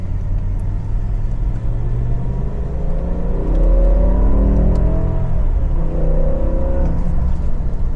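BMW M5 engine pulling under load with a steady deep rumble, its pitch climbing in successive rising sweeps as it shifts up through the gears, loud and close with no talking.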